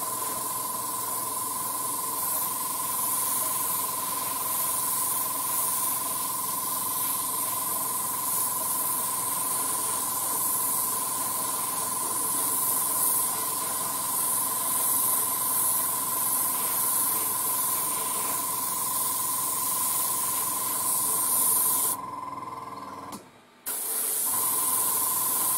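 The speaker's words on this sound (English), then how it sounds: "you can see it's very thick out of the airbrush" An airbrush with a 0.3 needle sprays thick paint while rust effects are painted on a 1:72 scale model, giving a steady, close, continuous hiss with a faint tonal whine that cuts off briefly near the end.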